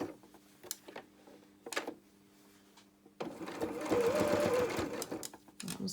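A sewing machine stitches felt flower petals for a 3D felt flower, running in one steady, close burst of roughly three seconds after a quieter start with a faint hum and light handling sounds.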